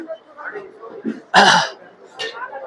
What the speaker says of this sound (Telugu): భలే దగ్గు వస్తుంది ఇక్కడ